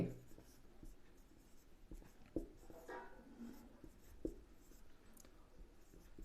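Pen or chalk writing during a Bengali physics lesson on electric charge, soft scratchy strokes with a few sharper taps, faint and close, with no one speaking.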